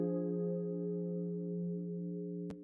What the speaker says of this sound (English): I layered that synth with some Rhodes from Lounge Lizard.